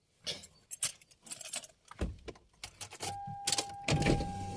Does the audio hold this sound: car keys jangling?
yes